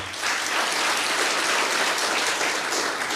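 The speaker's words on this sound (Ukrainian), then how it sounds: "Уся студія йому аплодувала." A television studio audience breaks into loud, continuous applause, with dense, even clapping throughout and no talking.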